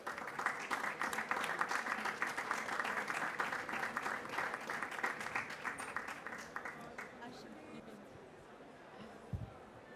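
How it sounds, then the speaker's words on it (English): An audience applauds a keynote speaker, the Minister of Housing, Energy and Climate, Tourism and Youth, at a conference on the WEFE nexus. The clapping is dense and sustained, then gradually thins and fades toward the end. "So give her a warm round of applause for Minister De Prateren."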